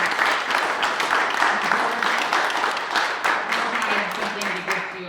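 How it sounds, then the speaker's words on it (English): A round of applause fills a village board meeting room, steady, continuous clapping from a modest group held at an even level for about five seconds. "So I would just like to give her a round of applause for all of her efforts"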